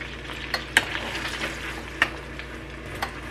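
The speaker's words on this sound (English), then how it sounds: "Give it a stir to loosen all the apple bits up and get some of that butter on all the apples" Apple slices sizzle and fry in melted butter in a pan, with a steady crackling hiss and a few sharp clicks and scrapes from stirring, close and alone.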